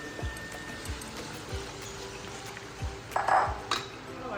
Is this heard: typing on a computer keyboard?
no